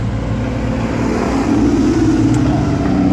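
A Porsche GT4 Clubsport race car engine drones steadily and loud, with a slight swell in pitch and volume midway before holding near and constant.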